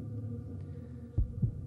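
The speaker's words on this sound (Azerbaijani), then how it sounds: "bax bu ürək döyüntülərini eşidirik" A heartbeat sound effect plays during the result announcement on the Azerbaijani singing contest show Milli Səs: two deep, muffled thumps in a quick lub-dub pair over a low steady hum.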